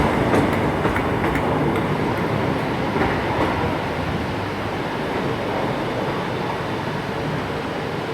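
A ScotRail train pulls out of Glasgow Central station, a continuous rumbling roar of wheels and motors with faint rhythmic clicks over the rails, steady and moderately near.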